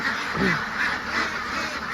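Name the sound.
laying ducks quacking in their pen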